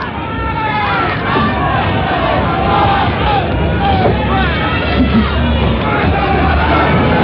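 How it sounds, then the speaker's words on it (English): A packed boxing crowd at Kooyong Stadium cheers continuously through a bantamweight world title fight, a loud, dense roar of voices and shouts that holds steady from start to finish with no pauses. "the boys from Liverpool in the packed Kooyong Stadium raise their cheer"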